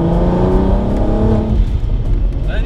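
Supercharged 490bhp Volkswagen Golf engine revving briefly up close, a loud rising growl that eases off after a moment.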